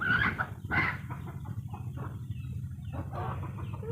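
Chickens cluck repeatedly at close range with short, uneven calls, including a couple of louder squawks, over steady background noise.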